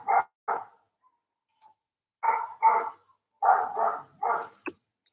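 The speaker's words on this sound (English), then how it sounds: "someone is barking behind me" A dog barks repeatedly nearby in Ukraine, with seven sharp, loud barks in quick pairs and clusters separated by short silences.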